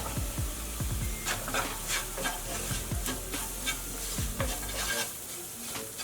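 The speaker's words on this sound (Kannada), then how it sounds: "ಲೋ ಫ್ಲೇಮ್ ಇಟ್ಕೊಂಡು ಒಂದು ಅರ್ಧ ನಿಮಿಷ ಇದನ್ನು ಫ್ರೈ ಮಾಡ್ಕೊಳ್ಳೋಣ" Sliced onions with cumin powder and garam masala frying on a low flame for palak khichdi, giving a soft continuous sizzle broken by repeated close scrapes and taps of a stirring spoon.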